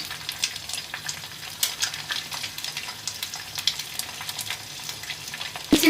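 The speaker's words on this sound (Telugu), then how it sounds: "నేను ఈ ఆమ్లెట్ అన్నది అటువైపు వేసి తిప్పేస్తున్నాను" A bread omelette frying in a pan, a continuous close crackling sizzle with small pops and light clicks, ending in a brief knock as it is flipped.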